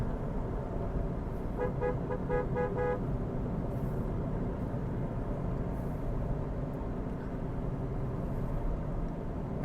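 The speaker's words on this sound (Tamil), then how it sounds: "ஸோ நல்ல குவாலிட்டியான ஹார்ன் தான்." A Hyundai Verna's horn honks in a rapid series of short toots for about a second and a half, over steady road and engine noise.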